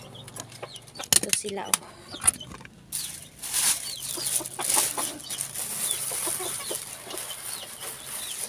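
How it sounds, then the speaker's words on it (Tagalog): Small bantam chickens, hens and roosters together on a farm, cluck in short scattered calls close by, with a person talking over them throughout. "Maliliit na manok. Ito ay tinatawag na bantam guys."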